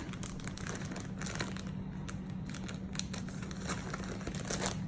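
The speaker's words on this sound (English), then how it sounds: "it helps if I have my scissors to cut the bag" Steady crinkling and crackling of plastic with small snipping clicks, close up and continuous, over a low background hum.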